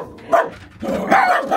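An agitated dog at home barks and yips in a couple of short, loud, close bursts, with a brief whimpering quality between them.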